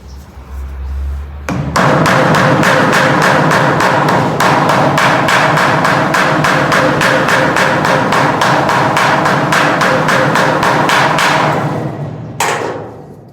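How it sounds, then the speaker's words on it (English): Rapid, steady hammer blows ring out on metal, dozens of evenly spaced sharp strikes at close range for about ten seconds, then stop, while shaping a custom metal center console for a Humvee build. "the best way to do this is use a hammer"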